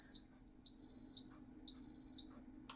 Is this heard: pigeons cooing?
no